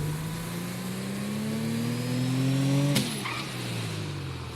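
A turbocharged car with upgraded engine in GTA 5 revs and accelerates, its engine tone climbing steadily over several seconds before a sharp shift or skid cuts it and the note drops.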